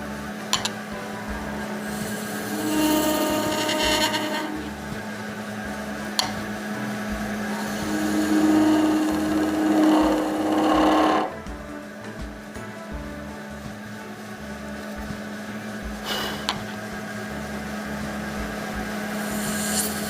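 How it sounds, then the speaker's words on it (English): Lathe scraping cuts with a skew chisel on an epoxy resin shaving brush blank, a steady motor hum with rough scraping bursts that swell and fade, then quieter spinning with a brief scrape near the end. "So all scraping cuts here with the skew."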